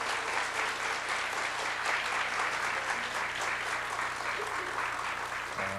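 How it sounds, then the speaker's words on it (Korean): A church congregation at a mothers' prayer meeting claps for their pastor, an even, sustained wash of applause that holds steady throughout and stays alone without talk. "우리 최병수 목사님께도 큰 박수 한번 해주시기"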